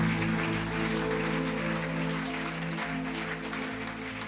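A church congregation applauds together during worship, a dense, steady wash of clapping that holds evenly throughout with a faint tonal hum beneath.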